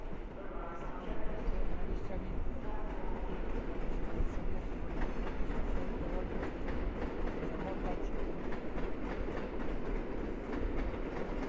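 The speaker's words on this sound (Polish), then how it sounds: "Jedzie jakaś AKM-ka." A train rolls through Warszawa Zachodnia station at night, a steady, loud rumble with rhythmic wheel clatter over the rail joints that carries on throughout.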